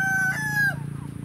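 Young pullet hens of a tinted breed, about 120 days old, on a poultry farm, giving a short crowing-like call followed by low clucking, close by with no talking.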